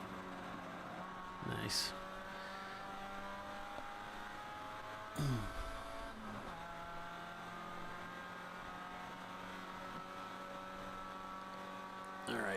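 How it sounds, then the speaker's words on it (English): Race car engine during ChampCar endurance racing at Road America, steady engine drone with brief rev-match blips on downshifts, heard through in-car or trackside audio beneath a short spoken remark. "So listen to this rev match here."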